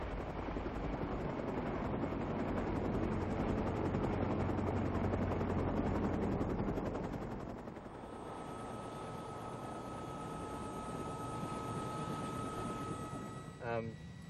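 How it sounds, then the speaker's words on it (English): Rescue helicopters arriving at remote villages after a natural disaster: a steady, loud rotor and engine roar under wind noise, shifting after about eight seconds to a smoother drone with a sustained whine. "As the helicopters started arriving"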